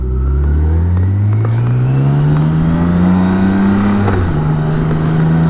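A BMW K1600 GTL motorcycle cruises on an open road, its six-cylinder engine droning loud and close while its pitch climbs smoothly under acceleration, dips briefly at a gear change and settles again, with wind rush throughout.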